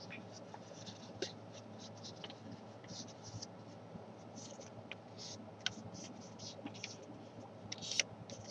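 Paper rustles, scratches and crinkles softly as an origami rose is shaped, with crease-pushing scrapes and small clicks scattered throughout at a quiet, close level.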